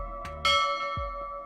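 A Minecraft tower bell made of a gold block, with a dark oak button as its clapper, strikes twice and leaves a bright ringing tone that hangs and fades under low thumps.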